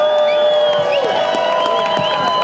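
A crowd at the Ann Arbor Hash Bash cheers and whoops for Emily Berriman, a sustained, loud wash of voices with scattered claps and high shouts running throughout.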